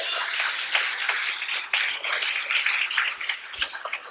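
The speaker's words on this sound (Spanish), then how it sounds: "Denle un aplauso." A church audience at a Catholic preaching event breaks into lively applause, many hands clapping in a dense, steady patter with a few sharper claps standing out, fairly distant and without voices.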